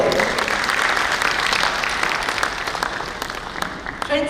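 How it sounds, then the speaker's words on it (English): Audience applause fills a convention hall during an inaugural session, a loud, dense wash of clapping that holds steady for several seconds before thinning slightly toward the end. "May we have a thunderous round of applause for all of them."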